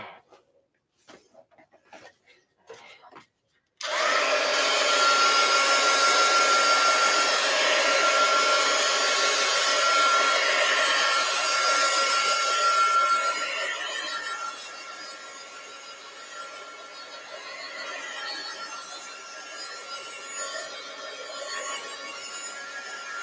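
After a few soft clicks and rustles, a hair dryer switches on and blows loudly and steadily over a freshly painted art journal page, dropping to a lower setting partway through, with no talking.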